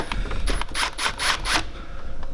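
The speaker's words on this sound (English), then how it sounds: "it's now time to tighten up these ones to spec" Bolts on a Ford Falcon FG door lock actuator being tightened with a ratchet, about five quick rhythmic clicking bursts close up, then a brief quiet tail.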